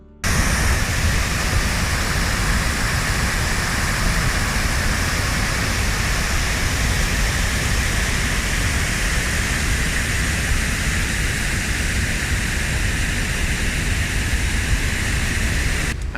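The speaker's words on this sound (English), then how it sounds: "it's just the sound, the big rustle of that weir" Steady, loud rushing water roars continuously without pause, a dense broadband wash of a river pouring over a weir close by, in central France.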